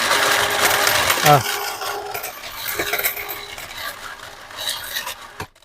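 A coin counter whirs and rattles loudly as coins jam at the front, then the mechanism clatters and winds down to a stop, with a brief exclamation from a person.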